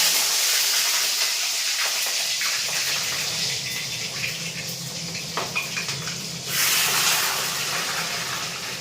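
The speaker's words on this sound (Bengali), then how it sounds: "আর ফুটছে, চিকেনটায় ফুটছে প্রচুর।" Chicken leg pieces frying in hot oil make a loud, steady hissing bubble close up, easing slightly midway then surging again, with no talk.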